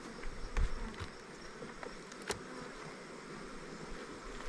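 Honey bees from backyard hives hum as a steady, low swarm drone close by, with a few louder thumps and short knocks of hive boxes and frames breaking through around the buzzing.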